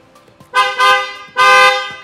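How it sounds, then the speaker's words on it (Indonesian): A 2020 Toyota Hilux's replacement louder horn sounds in short blasts: a brief toot, then two loud honks close together, a pause, and one longer loud blast, close by. "kita coba tes untuk dari hasil klaksonnya seperti ini"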